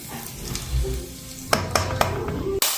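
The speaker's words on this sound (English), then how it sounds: "The oil is already hot, so we're going to add the whole cumin seeds." Whole cumin and coriander seeds fry in hot oil with a steady soft sizzle, broken by a few sharp clinks and scrapes of a utensil against the pan, close and alone.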